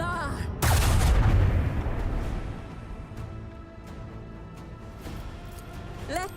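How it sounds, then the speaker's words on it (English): A heavy macro cannon fires in a Warhammer 40k game, one huge booming blast that hits early and then rolls away into a long, fading rumble, with a voice talking over it. "Let the macro cannon sing their twisted song."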